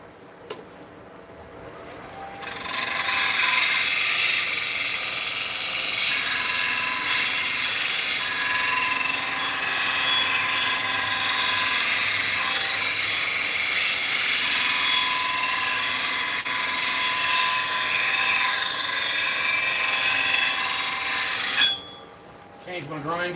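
A big bowl gouge is ground to a fresh edge on a bench grinder, a steady loud high-pitched grinding hiss holding for about twenty seconds before the wheel falls off near the end.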